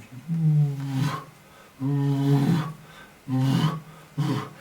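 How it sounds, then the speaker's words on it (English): Lion roaring at night, four long deep groaning roars rising and falling in pulses with short pauses between, loud and fairly close. "as this lion started roaring"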